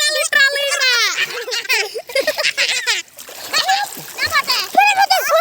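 Children splash about in a village pond, with bursts of water sloshing and spattering close by under near-constant excited chatter and high voices.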